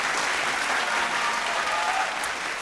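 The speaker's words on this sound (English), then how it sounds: "another round of applause, please, for Casey Dye" A live television singing-competition audience applauds steadily for a departing contestant, dense sustained clapping with faint crowd noise throughout, no speech over it.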